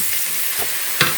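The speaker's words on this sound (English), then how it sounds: "While that spinach is over there sizzling away" Chopped spinach sizzles and crackles in a hot frying pan as it wilts. The frying hiss is steady and close, with a sharper pop near the end and no voices.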